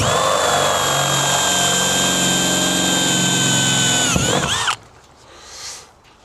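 Power drill boring holes through the metal body of a long-wheelbase MAN TGE van for a window fit, a loud steady high whine that spins down and cuts off near the end, leaving quiet handling noise.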